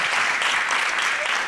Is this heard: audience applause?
yes